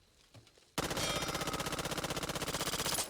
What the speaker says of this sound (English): Uzi, let's check out the recoil.